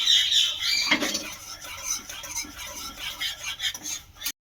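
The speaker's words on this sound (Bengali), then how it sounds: "সমস্ত বেসনটাই দিয়ে দিয়েছি, দিয়ে খুব ভালো করে মিশিয়ে নেব।" A gram flour and milk mixture is stirred in a pan with a spoon, giving repeated squeaky scraping strokes and light clinks against the metal, close and uneven, with no voices.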